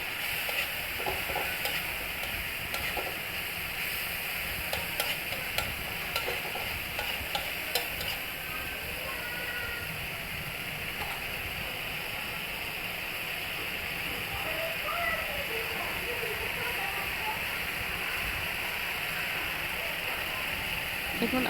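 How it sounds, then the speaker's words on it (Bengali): Spice paste frying in oil for a fish curry gives a continuous soft sizzle. A spoon scrapes and stirs through it with scattered small clicks, and a voice talks faintly alongside. "আমার মশলাটাকে একটু ভালো মতো নাড়াচাড়া করে কষিয়ে নিতে হবে।"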